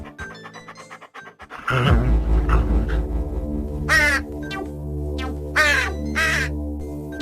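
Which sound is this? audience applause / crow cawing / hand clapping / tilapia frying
crow cawing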